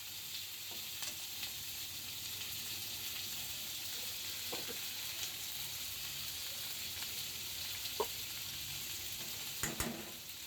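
Sweet potatoes and onion fry in a pan with a continuous close sizzle and hiss, broken by occasional scraping stirs and light clinks of the utensil, with no talking.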